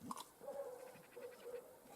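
A dog named Sharik whimpering outdoors in a snowy village, thin high whines repeating in short bursts, faint against a quiet background.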